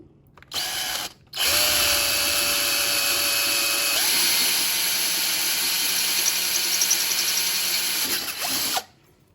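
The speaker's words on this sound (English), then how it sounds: "Then I'm going to drill the actual hole." A power drill drills a full-size hole in an Arctic Cat snowmobile to fit ice scratchers, running steadily at high speed for several seconds after a brief start, its whine shifting pitch once midway before stopping abruptly.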